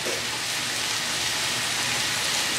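Heavy rain pours down outdoors, a dense, steady hiss that stays loud and even from start to finish with no voices.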